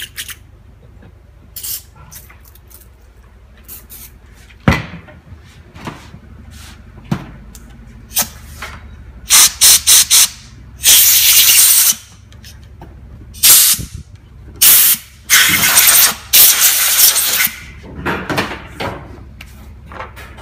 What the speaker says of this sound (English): Just a bit of brake cleaner or a carburetor cleaner.